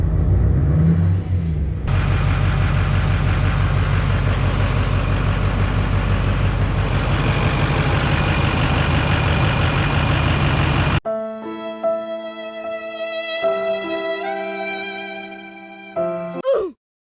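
A Duramax diesel truck engine idles steadily with a rough, ticking clatter from an exhaust up-pipe leak, loud and close. It is followed by a brief stretch of unrelated tonal sound.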